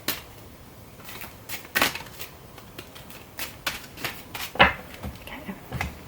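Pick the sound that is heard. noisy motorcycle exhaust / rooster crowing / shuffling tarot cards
shuffling tarot cards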